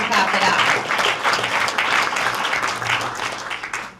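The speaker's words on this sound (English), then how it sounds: "Yeah, and we can clap it up." Dense audience applause at a Franklin County Chamber breakfast, steady many-handed clapping that fills the room for about four seconds and tapers slightly at the end.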